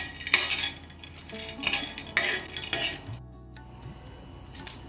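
Peanuts roasting with garlic and chili in a pan, heard as repeated metallic scrapes and clinks of a spoon stirring against the pan, coming in short bursts with quieter gaps between.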